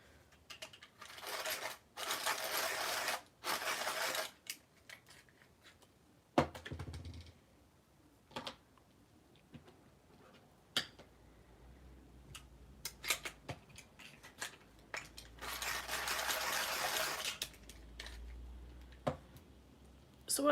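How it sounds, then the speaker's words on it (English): A noisy swordfish-shaped pencil sharpener grinding a pencil during a colouring session, heard as several loud bursts of whirring, scraping grind separated by pauses, with scattered clicks and handling taps between. "Just sharpening my pencil if you hear the noise."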